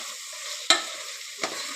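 Masala powder (MTR bisi bele bath) sizzling as it fries in a pan, with two sharp scraping stirs standing out over the steady close hiss; no voices.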